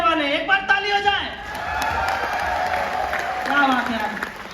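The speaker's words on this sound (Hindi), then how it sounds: "एक बार ताली हो जाए।" An audience at a live trading-competition event breaks into applause: a dense, steady wash of clapping and crowd noise that rises after a voice speaking at the start and holds evenly to the end.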